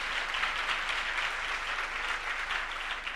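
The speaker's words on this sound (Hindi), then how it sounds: "Let's give clap to the Lord." A church congregation applauds in a steady, dense wash of hand clapping that continues evenly throughout, with no voices over it.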